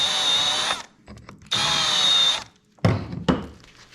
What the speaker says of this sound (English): Just run a countersink in, cleans the burrs off of both sides.